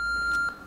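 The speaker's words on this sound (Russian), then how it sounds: "В «Джеки Браун» Тарантино озвучил автоответчик" A short electronic answering-machine beep in the film Jackie Brown, a single clean high tone lasting about half a second, then quiet.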